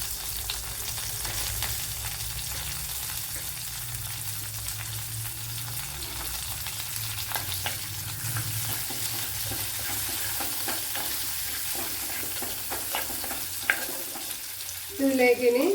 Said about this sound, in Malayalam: ഇതിലേക്ക് കറി ലീവ്സ് ഇട്ട് കൊടുക്കുക.